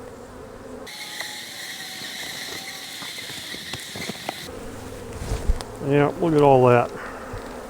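Honey bees hum in a steady, close swarm around an opened spring hive whose frames are full of honey; the buzzing runs alone at first, then someone speaks briefly over it.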